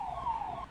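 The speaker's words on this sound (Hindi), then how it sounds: "बाहर एम्बुलेंस की आवाज भी आ रही थी" An ambulance siren wails outside, a single brief rising-and-falling tone heard at moderate distance over steady background noise.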